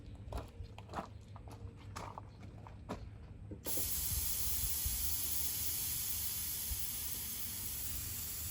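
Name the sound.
spraying brake cleaner from aerosol can at yellow jackets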